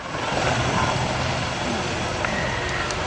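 Catalina PBY-5A flying boat engines at an air day display, a steady, loud broadband drone that holds evenly throughout with no break.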